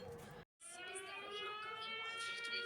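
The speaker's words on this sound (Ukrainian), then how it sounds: "Повітряна тривога." An air raid alert siren sounds as a steady, faint, distant tone with layered harmonics, sustained after a brief dropout.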